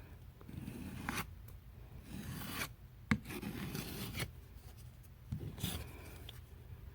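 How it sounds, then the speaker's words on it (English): Hand sanding by hand along a drywall seam where peeling tape is coming off, with repeated close rasping strokes in bursts separated by brief pauses. "I'm gonna go hard with it and just sand this portion."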